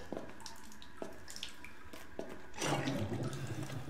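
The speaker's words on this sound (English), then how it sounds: "I hear water running." A tap runs in a horror video game, water splashing and trickling at moderate level with a few soft clicks and knocks before the flow swells louder near the end; no one speaks.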